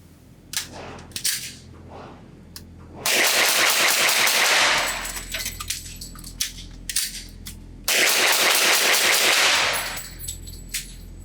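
A suppressed FN FNX-45 Tactical pistol fires two rapid strings of shots at an outdoor range. Each burst is a loud, dense run of muffled cracks, with scattered single shots and clatter between the bursts.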